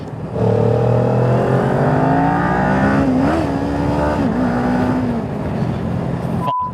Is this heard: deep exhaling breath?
no